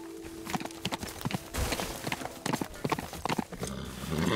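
A horse's hooves clip-clop in the voxel video game Teardown, with quick irregular hollow clops close by over a busy background of knocks and shifting noise.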